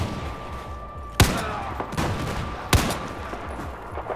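Loud gunshots from a weapon in Battlefield 4 on the Kunlun Mountain campaign mission, two sharp cracks about a second and a half apart plus a fainter shot between, over low background noise.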